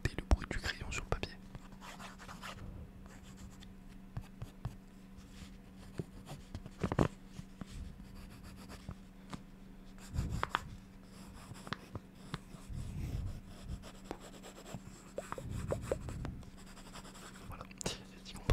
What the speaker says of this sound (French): Vous allez pouvoir écouter le bruit du crayon sur le papier.